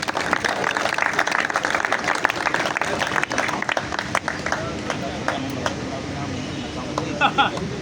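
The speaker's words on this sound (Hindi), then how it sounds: "तो आप सबकी भरपूर तालियां दी" An audience at a party prize announcement for a champion cricket team claps loudly and continuously, a dense sustained round of applause with voices mixed in.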